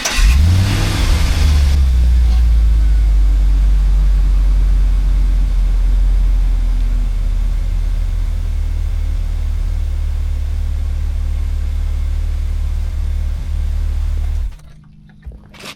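A car engine starts and runs at a steady, loud idle during a transmission fluid change, opening with a rising rev before settling into a continuous low drone, then cutting off abruptly near the end.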